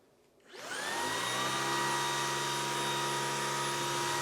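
A Shark Stratos IZ862H cordless vacuum starts up and runs steadily while picking up cat hair, a loud, close whine with a strong tonal hum that holds evenly after switching on.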